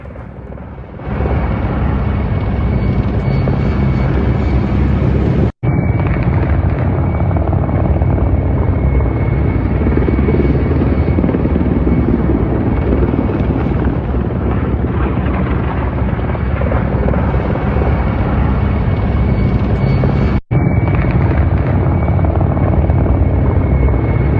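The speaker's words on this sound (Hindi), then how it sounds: "ये मी-35 हेलीकॉप्टर्स है, मी-35 हेलीकॉप्टर्स।" Russian Mi-35 attack helicopters fly overhead in a war zone, making a loud continuous rotor thump and turbine roar that holds steady throughout, broken twice by brief cuts.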